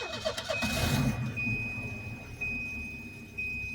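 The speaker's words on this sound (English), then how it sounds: "when you start it, you'll hear the motor run" A Volvo 240 engine cranks and catches, then settles into a steady idle with a faint whine, heard close and alone.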